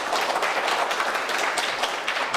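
Audience at a youth economic forum welcomes a company chairman to the stage with big applause, dense continuous clapping at steady volume throughout.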